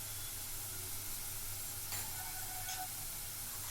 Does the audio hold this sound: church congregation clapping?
no